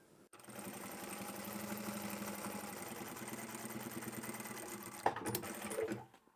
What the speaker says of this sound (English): Let's take this to the machine with our 1 centimetre seam allowance. We'll sew straight across both those edges.